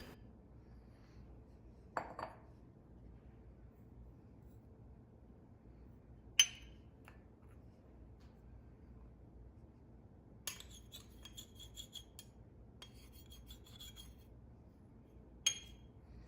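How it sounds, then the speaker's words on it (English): A spoon scrapes and presses baking soda and cornstarch through a metal sifter for cookie dough, giving faint scattered metallic clinks and scratchy rasps spread over a quiet background. "I like to use a spoon to press my ingredients through the sifter"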